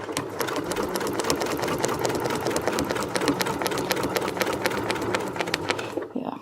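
A sewing machine stitches quilting with a template and ruler foot, its rapid, even needle rattle running steadily for several seconds before stopping abruptly at the end.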